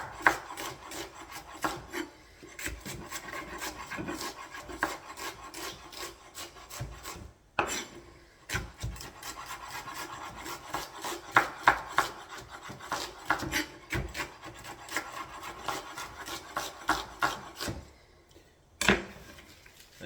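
Onions sliced thinly with a knife on a wooden board make rapid, rhythmic rasping cuts, close and fairly loud, with a couple of short pauses between runs.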